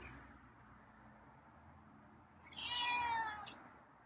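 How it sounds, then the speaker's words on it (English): A single drawn-out cat meow rises near the end over a quiet, dull background hum, close and fairly clear. "Still meowing, huh?"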